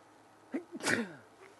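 A single close, sharp human sneeze with a quick inhaled build-up, then quiet.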